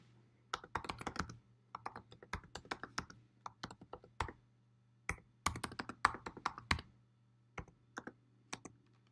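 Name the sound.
typing a new file name on a computer keyboard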